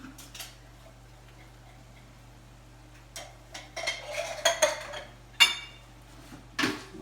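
Spoon scraping and clinking against a pot while diced tomatoes are stirred into a meaty bolognese sauce, quiet at first, then a run of irregular knocks and scrapes, a sharp clank near the end, with a steady low hum underneath.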